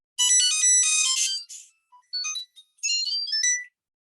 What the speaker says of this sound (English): And I'm going to play Pac-Man.